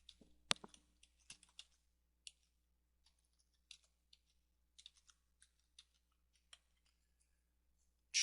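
A domain name is typed on a computer keyboard, giving a quick flurry of close, crisp key clicks at first, then sparser, irregular taps spread out through the rest, quiet and with no talk.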